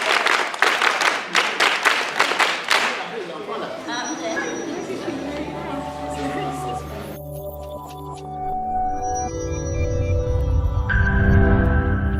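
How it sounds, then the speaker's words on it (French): A burst of audience handclapping at a World Handwashing Day gathering in Yaoundé lasts about three seconds, then gives way to chatter, people talking and other background sounds. "On applaudit très fort."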